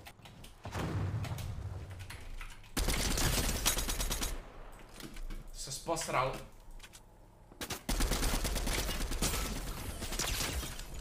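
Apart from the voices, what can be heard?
gunfire in Fortnite video game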